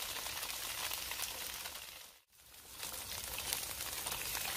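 Tofu pan-frying in oil in a hot non-stick wok with ginger slices, a steady close, broadband sizzle with a brief dip in the middle.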